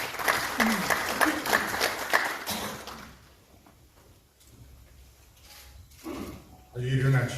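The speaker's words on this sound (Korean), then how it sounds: "따뜻한 박수로 맞이해주시면 고맙겠습니다." An audience at a National Assembly prayer breakfast gives warm applause to welcome a speaker, loud clapping that fades after a few seconds into quieter room noise and then a voice.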